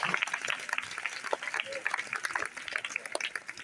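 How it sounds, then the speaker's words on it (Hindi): Applause from the audience at a birthday commemoration event for Bhagat Singh in India, a dense patter of clapping that holds steady throughout, with a voice announcing over it. "क्लैपिंग, तालियां,"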